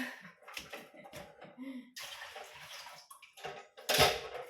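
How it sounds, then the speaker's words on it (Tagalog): Water runs from a tap in a quiet indoor spot, a soft hiss in short starts and stops, with small clicks and taps around it. "Dito lang ako kumukuha sa gripo guys ng tubig."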